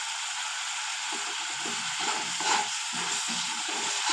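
Gram flour and spices frying in a pan for a bottle gourd kofta gravy, giving a steady soft sizzle with light stirring scrapes throughout.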